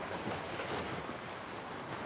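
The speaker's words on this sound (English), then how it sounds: "Water is pretty rough today." Rough sea surf washes steadily against the pier at Rawai Beach, Phuket, a continuous broadband roar of breaking waves with some wind buffeting the microphone, no voices.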